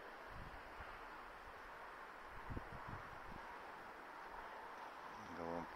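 Steady, faint wind noise buffeting the microphone throughout at an allotment garden, with a few low thumps and a brief tonal hum near the end.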